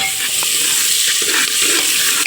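Onions sizzling in oil in a pan as vegetables are tempered, with steady broadband frying hiss and repeated stirring scrapes close by, no talking.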